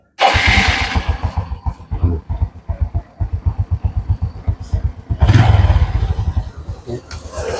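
A Honda Revo Absolute motorcycle engine cranks and catches with loud sputtering pulses, stumbles and dips, then fires again into a rough, close idle.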